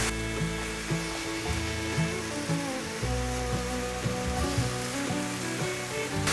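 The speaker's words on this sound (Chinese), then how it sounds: "快速的翻炒， 把调味料炒均匀。" Fried rice stir-fried in a hot pan with black and white pepper and rose salt gives a loud, steady sizzle that runs throughout, with tonal background music layered underneath.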